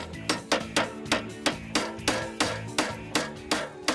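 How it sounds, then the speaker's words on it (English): Steady hammer blows driving a metal spike into a pre-drilled wooden board, about four strikes per second, sharp and close with ringing tones between hits. "you hammer the spike in there."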